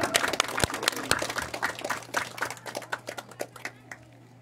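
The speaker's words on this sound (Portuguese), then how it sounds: "Aplausos para ela." Audience applause for a speaker at a civic event in Carnaíba, with many sharp claps that crest and then thin out toward the end, fairly close, under a steady low hum.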